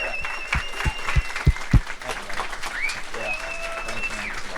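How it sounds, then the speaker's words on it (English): Audience applause at a panel discussion, a short burst of clapping that fades under a speaker's amplified voice, moderately loud and somewhat distant. "just show him a round of applause also as he comes up"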